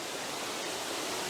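Water from a stream or waterfall rushes steadily in a continuous, even broadband hiss, moderately loud and unchanging, with no voices or other distinct sounds.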